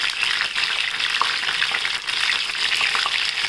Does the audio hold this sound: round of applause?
no